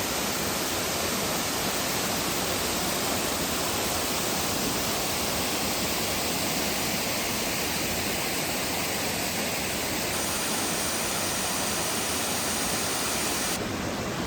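A big waterfall near Grasmere in England's Lake District pours in a steady, dense roar of rushing water that stays constant and close throughout, with no other sounds standing out.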